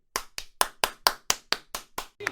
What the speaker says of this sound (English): Let me clap it up for my boy.